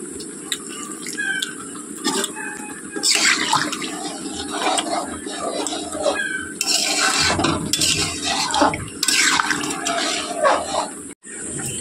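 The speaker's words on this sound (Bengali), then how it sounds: "মাংসটা কষানো হয়ে গিয়েছে, আবার জল দিয়ে দিলাম।" Water poured into a pot of braised country chicken curry, a loud continuous splashing gush with clinks against the pot, heard close up and alone for most of the clip.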